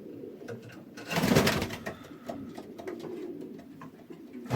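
Pigeons coo in an allotment loft of selected cock birds, a close, soft, rumbling coo swelling in the middle and then continuing in lower murmurs with some rustling, no talk.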